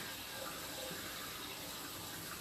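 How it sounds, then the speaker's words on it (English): Water trickling and running along the bottom of an offset sewer pipe during a camera inspection, a steady, soft, continuous wash heard alone with no voices. "A little bit of water escaping down on the bottom of the pipe"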